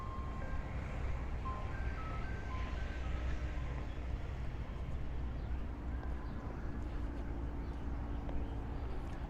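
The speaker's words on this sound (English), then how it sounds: "Ice cream truck." A faint, distant ice cream truck jingle plays its short repeating tune on the Coney Island boardwalk in Brooklyn, nearly buried under loud, constant wind and outdoor rumble.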